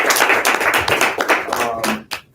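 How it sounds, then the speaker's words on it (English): Brief round of clapping from a small group during a live online sports-betting session, dense and fairly loud for about two seconds before fading out. "So big round of applause for those guys."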